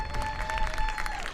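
Spectators at a Sin City FC versus Be Pro FC women's football match in the NISA Nations League clap in a steady, moderately distant patter of applause that stays fairly even throughout.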